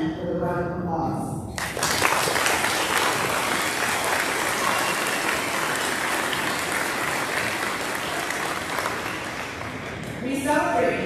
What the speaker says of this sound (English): let's honor them with a round of applause.